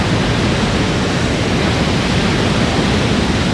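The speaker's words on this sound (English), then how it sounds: "which is the smallest of the three waterfalls in Niagara Falls, and it's not little whatsoever. Cascading down this way" Steady, dense roar of the smallest of Niagara Falls' three waterfalls cascading down, a constant broadband rush with no pauses, loud and close, with no voices over it.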